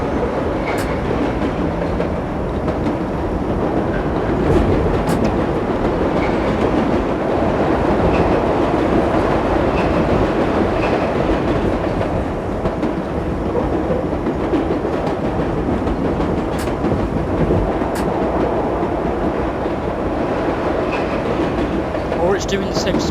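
A New York subway train on Line 7 from Main Street to Times Square runs at steady speed in a railway simulation game, with a constant loud rumble and faint clickety-clack that continues without a break.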